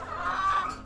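Backyard domestic chickens kept in a limited home space give a short burst of clucking, fairly close and alone, lasting under a second.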